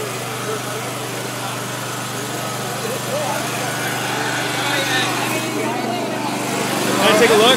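A Honda V-twin engine drives a 10kW generator set with an automated fuel feed auger, a steady close mechanical drone that grows slightly louder near the end, with voices over it.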